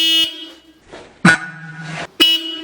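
Two loud car horn honks with a pause between them, close by, and a shorter fainter toot in the middle, from a car with its front bumper and mudguard removed.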